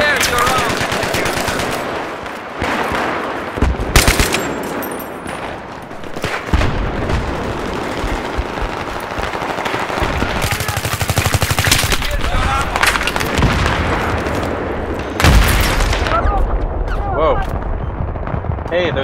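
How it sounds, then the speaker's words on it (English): Dense automatic gunfire and heavy mortar-style booms fill a Battlefield 3 multiplayer match, loud and continuous with repeated bursts and blasts, while players talk over the combat. "there's a mortar dude."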